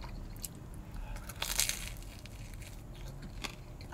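Crunchy bites into a crispy pepperoni pizza slice from a vending machine, with one loud crackling crunch in the middle and softer chewing crackles after it under faint background noise.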